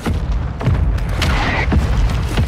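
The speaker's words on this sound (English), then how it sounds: "I just threw another mortar down." A mortar strike lands in the online shooter Call of Duty: Modern Warfare II. Several deep, muffled booms and thuds roll through a dense low rumble of battle noise, with no clear talking.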